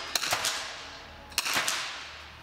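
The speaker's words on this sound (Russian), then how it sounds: "Выстрел ушел, выстрел ушел." Two sharp small-bore rifle shots from a women's 50m three positions shooting event, about a second apart, each a crisp crack with a short fading tail, fairly close and clear against a quiet hall.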